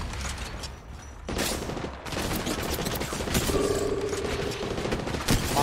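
Gunfire in the mobile shooter Apex Legends Mobile rings out in a dense, sustained burst of loud shots and crackling fire that fills most of the clip, with game effects mixed in and no talk.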